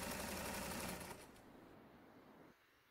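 A sewing machine stitches cloth for a child's pant, running in a fast, even whir for about a second before slowing and easing off into quieter mechanical ticking.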